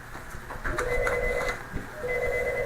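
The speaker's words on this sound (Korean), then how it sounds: "여기서 전화가 오네" Phone ringing with an incoming call during a lecture, an electronic tonal trill repeating in two bursts, moderately loud and close, with no speech over it.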